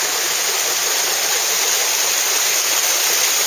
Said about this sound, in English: And then the water falling through here.